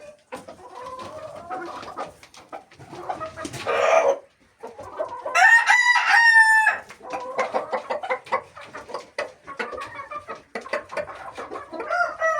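Chickens cluck busily and close by while eating a feed mix, with scattered pecking sounds and a loud drawn-out squawk or crow partway through, no talking.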